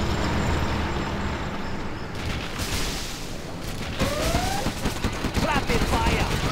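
Rapid gunfire in Command and Conquer Generals Zero Hour, China campaign, a dense fusillade of shots building over mechanical rumble, loud and close, with shouted voices over it.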